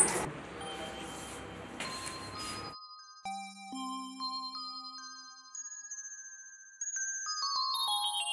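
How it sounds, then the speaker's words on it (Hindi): A mobile phone ringtone plays a bright electronic melody of chiming tones. It starts under a brief burst of background noise, then rings alone and clearly, with the notes stepping up and down in a repeating tune. "किसका फोन आ रहा है ये"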